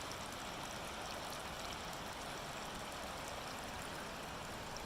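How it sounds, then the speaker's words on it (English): Out in mountain backcountry, a distant waterfall and stream flow in a steady, even rush of white water that stays soft and constant throughout, with no voices over it. "Real pretty waterfall over there."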